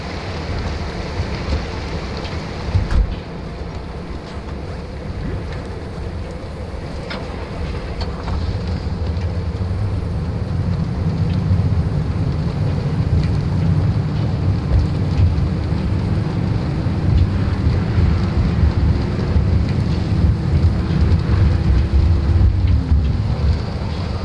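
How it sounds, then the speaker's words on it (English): A loud rainstorm with rumbling thunder and wind roars continuously in the video game Pacific Drive, heavy low rumble and hiss throughout with a faint rising engine-like tone near the end. "And the extremely loud storm."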